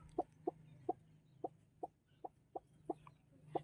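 A brooding heritage chicken hen sitting on eggs gives about ten soft, evenly spaced clucks at a steady pace, close by, over a low steady hum.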